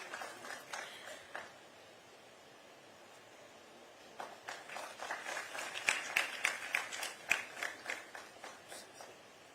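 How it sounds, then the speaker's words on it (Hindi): Scattered applause from an audience at a state education award ceremony, faint and distant at first, then swelling into steady rhythmic clapping with individual sharp claps standing out. "एक बार तालियों के साथ हम डॉक्टर यतेंद्र प्रसाद गौड़ जी का सम्मान करते हैं"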